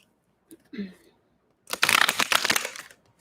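A short burst of rapid, papery riffling as a tarot deck is shuffled close by, preceded by a few soft handling sounds.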